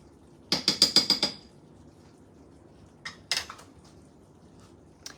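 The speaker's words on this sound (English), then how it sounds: "I am gonna get a spoon really quick, stir this around" A spoon stirs a cheese mixture for beef enchiladas in a bowl: a rapid run of six sharp clinks close up, then a pause, then a few more scattered taps.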